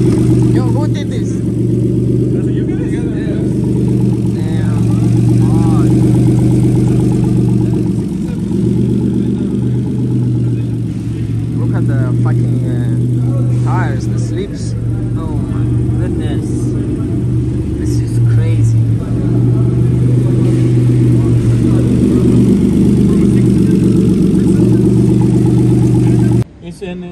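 A Ford Mustang with a single-turbo V6, about 600 hp, idles steadily with a deep, even rumble that holds close and loud throughout, while people talk over it.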